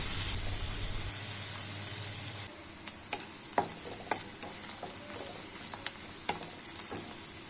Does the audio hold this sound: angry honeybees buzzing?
no